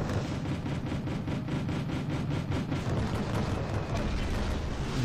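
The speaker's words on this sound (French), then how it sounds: "Je vois des tirs d'artillerie qui continuent à tomber." Artillery fire landing in the strategy video game Wargame Red Dragon, a dense rumbling barrage with repeated muffled bursts and booms over a continuous low roar, no talking.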